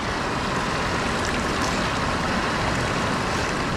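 Mountain river and waterfall on the Katora Lake trek in Pakistan, heard at a river crossing: a steady, loud, broadband rush of flowing water, close and unbroken for the whole stretch, with no talking.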